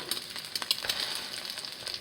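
An egg fries in oil in a pan with a bright, steady sizzle, crackling and popping in small spits, close and moderately loud.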